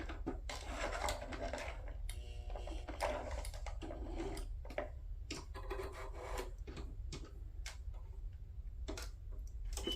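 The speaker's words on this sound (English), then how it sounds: "Then let me sew around the edges." A sewing machine stitches around the edges of faux paper stamps, a close, steady rapid ticking and rubbing rattle running throughout with brief irregular pauses.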